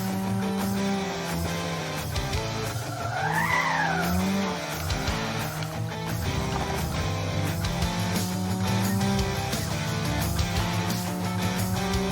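Racing cars skid and squeal in the First Racer demo, a steady engine drone with a rising and falling tire screech over continuous game noise.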